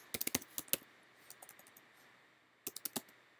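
A computer keyboard being typed on nearby, a short quick burst of crisp key clicks, a few scattered taps, a pause, then another brief burst.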